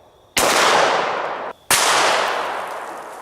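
Two loud gunshots from a 9mm pistol firing Underwood 147 grain +P full metal jacket rounds, each a sharp crack followed by a long, fading outdoor echo, spaced about a second apart.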